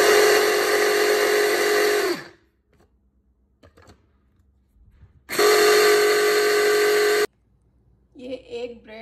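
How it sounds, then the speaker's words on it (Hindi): A mixer grinder grinding bread makes two loud, harsh whirring bursts of about two seconds each, separated by a quiet pause with small clatters, followed by brief faint sounds at the end. "ये एक ब्रेड है, इसको ग्राइंड कर दिया है।"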